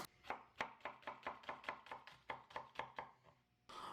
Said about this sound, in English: you just want to get your vegetables cut